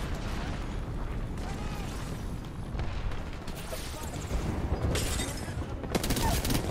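Gunfire in a competitive online shooter game, with a dense rumbling battle din and several sharp bursts toward the end, heard under a player's voice.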